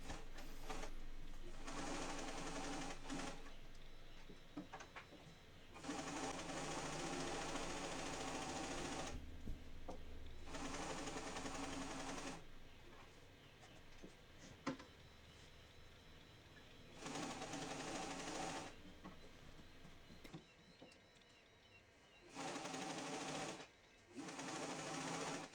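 A sewing machine stitches along a folded seam on a witch costume, running in several steady whirring bursts with short pauses between them, fairly quiet and alone.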